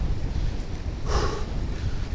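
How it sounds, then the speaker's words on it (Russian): Strong wind buffets the microphone of a cyclist on a countryside ride, a steady low roar and rumble filling the whole stretch, with a brief airy swell midway and no voices. "Да ветер такой, ехать невозможно вообще."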